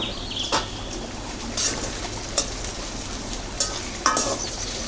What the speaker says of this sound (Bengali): হালকা করে ভেজে নিচ্ছি পাতাগুলো দিয়ে দিলাম